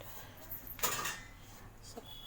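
A lid is set on a kadai pan of cooking food, giving one short metallic clatter followed a moment later by a faint clink in a quiet kitchen.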